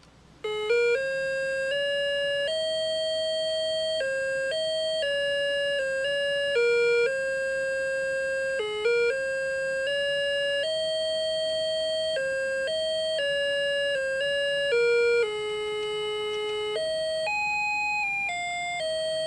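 A quartz 1980s Swatch-style wall clock plays its hourly chime, a bright electronic medley of steady single notes stepping up and down in a clean, continuous melody with no talking.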